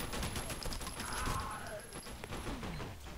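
Gunfire in the video game F.E.A.R. Perseus Mandate, a dense continuous stretch of rapid shots with metallic mechanical clatter, loud and steady throughout, with a high whine running across the top.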